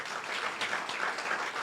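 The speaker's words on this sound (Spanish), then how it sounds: "Un aplauso al Señor." Worshippers in a church congregation break into brief, sustained applause, a thick, even roar of clapping hands filling the room from start to finish.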